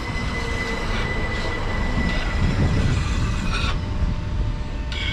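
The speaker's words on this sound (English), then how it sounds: "That motor you can hear is a 465-9, which is sat just here." A Class 465 electric train sits at a Kent station platform, its traction motor humming steadily and loudly close by, with a high whine above it and a few faint clanks and squeals from the rails, and no voices.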